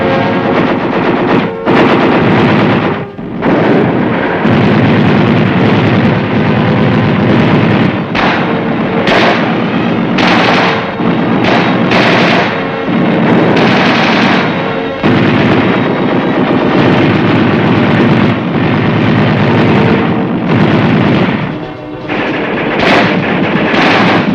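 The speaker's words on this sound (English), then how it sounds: "A mass demonstration of all infantry weapons adds up to a lot of punch" A mass firing demonstration of infantry weapons mixes continuous rifle and machine-gun fire with heavy explosions. The sound is very loud, dense and sustained throughout, with only a few brief dips.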